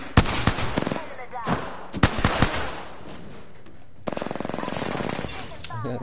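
Automatic gunfire in the video game Apex Legends: rapid bursts of close, loud shots in two volleys, then a steady sustained string of fire after a short pause, with voices talking over the action.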